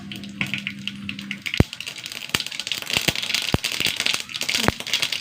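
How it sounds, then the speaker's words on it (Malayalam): Mustard seeds sputter and pop in hot oil in a home kitchen, giving a steady crackling sizzle broken by several sharp, distinct pops, close and moderately loud. "കുറച്ച് എണ്ണ ഒഴിച്ച് കൊടുക്കുക. കുറച്ച് കടുക് ഇട്ട് കൊടുക്കുക."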